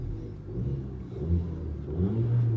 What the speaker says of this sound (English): Here's a little clip of the exhaust from the Audi and how loud it sounds when it does pop off.